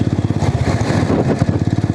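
A motorcycle engine putters close and loud in heavy highway traffic, a rapid rhythmic pulsing thump that holds steady throughout.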